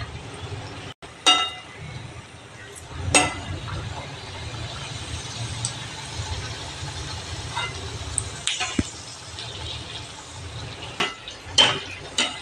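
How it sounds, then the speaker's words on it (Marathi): Hot oil splashed over mathri frying in a pan of oil, a low bubbling fry with intermittent sharp clinks and splashes, close and moderately quiet. "असं तेल उडवायचं म्हणजे अनारशांसारखं तर हलकं हलकं होतं."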